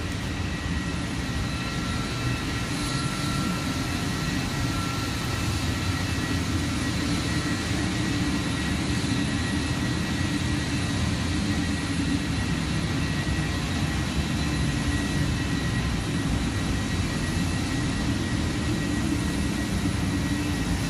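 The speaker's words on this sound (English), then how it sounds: "So this is the ER-2 airplane." A NASA ER-2 jet airplane roars loudly and steadily during takeoff for the whole stretch, a constant broad rushing drone without breaks or voices.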